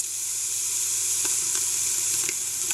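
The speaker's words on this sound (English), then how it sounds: "so it's time to get the bacon in" Bacon frying in a hot pot at the start of a seafood bisque, a steady bright sizzle and hiss with a few faint clinks of stirring.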